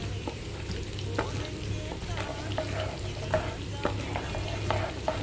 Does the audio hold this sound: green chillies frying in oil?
yes